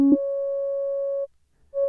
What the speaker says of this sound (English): First, I'll start with a saw wave oscillator.